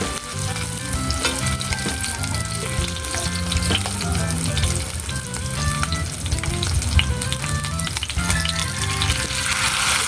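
Anchovy omelette (tortang bolinaw) frying in a pan, a loud, steady close-up sizzle and crackle that runs unbroken for the full length with no talking.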